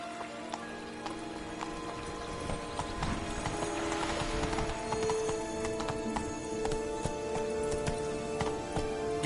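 Horse hooves trotting in The Witcher 3 video game, a steady, even clip-clop rhythm close by that continues throughout, with light rain-like patter in the background.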